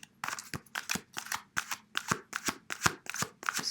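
Tarot cards being shuffled by hand, a steady series of about a dozen crisp riffling snaps at an even rhythm, close and fairly quiet.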